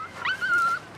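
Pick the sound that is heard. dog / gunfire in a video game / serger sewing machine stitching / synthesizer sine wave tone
dog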